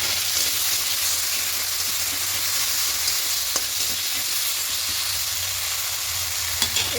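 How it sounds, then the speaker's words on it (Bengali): Dal being stirred and fried in a pan for bitter gourd and biulir dal, a steady dense sizzle for several seconds with occasional faint spatula taps and no talking. "খুব ভালো করে একটু কষিয়ে নেব।"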